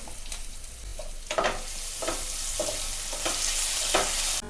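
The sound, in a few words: onion frying with garlic and ginger paste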